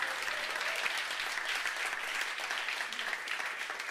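An audience at a live jazz band performance applauds a band member, a steady, dense wash of clapping that holds evenly for the whole stretch.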